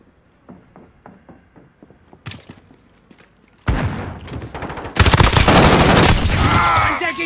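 Call of Duty: Modern Warfare multiplayer firefight: a few scattered thumps and single shots build into loud, sustained close-range automatic gunfire with dense rapid bursts filling the final seconds.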